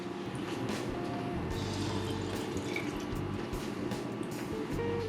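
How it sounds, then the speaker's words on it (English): Water is poured into a pot of green lentil soup with vegetables, a steady close splashing and trickling stream that runs without break for several seconds. "In my case, I'm gonna add it a little bit more of water."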